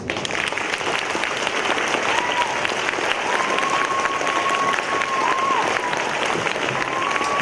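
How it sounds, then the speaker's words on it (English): A big room erupts in sustained clapping for veterans at a Veterans Day assembly, loud and even throughout, with no pause in the crowd's applause. "Would you all again give them a round of applause,"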